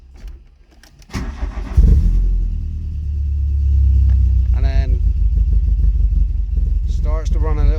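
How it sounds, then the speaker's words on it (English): A faulty Volkswagen Golf engine cranks, catches and fires, then runs unevenly with a lumpy, rumbling idle, close and fairly loud, with brief voices over it. "Starts to run a little bit better, still running a little bit lumpy, but it's actually starting to tick over a bit."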